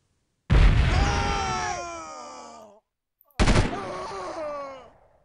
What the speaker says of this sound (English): I do have a grenade, though. You could probably use the grenade.